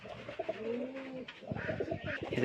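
White pigeons with black beaks coo in a loft, a drawn-out rolling coo followed by a burst of overlapping cooing from several birds nearby.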